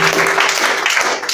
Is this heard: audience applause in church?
yes